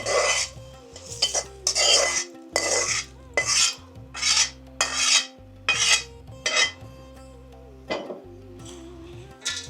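Cooked rice is stirred and folded with tempering using a metal utensil. Repeated rhythmic scraping strokes against the vessel come through clearly and close up, each lasting about a second, separated by short pauses.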